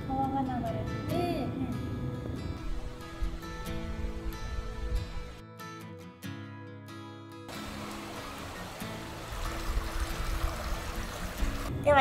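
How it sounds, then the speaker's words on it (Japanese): A river flows beside an outdoor hot spring at Ureshino Onsen in Japan, a steady rushing water wash running throughout, with people talking over it and a brief dip midway. "川が流れてて、"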